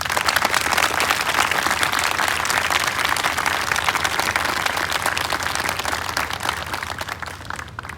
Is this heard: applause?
yes